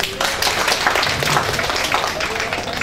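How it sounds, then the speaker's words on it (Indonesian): Audience clapping at a morning webinar session in Indonesia, a steady dense patter of hands sustained evenly for a few seconds, moderately loud and close, with no voices over it. "tepuk tangan buat semuanya"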